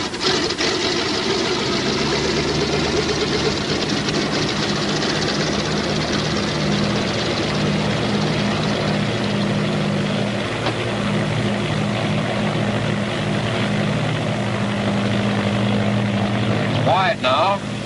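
A BT-13 trainer aircraft's radial engine and propeller drone steadily and loudly through a takeoff run, a continuous rough roar with a voice talking over it.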